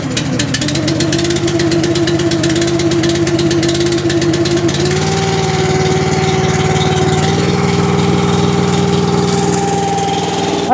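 A firewood log splitter's engine idles steadily after warm-up, a loud, close, continuous chug with a slight shift in pitch partway through and no voices.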